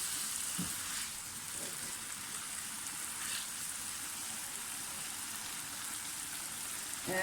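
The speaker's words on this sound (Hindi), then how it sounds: "टमाटरों के साथ थोड़ी सी भुनाई करें इसकी।" Tomatoes fry in a pan for an Afghani omelette, making a faint, even, continuous sizzling hiss with no talk.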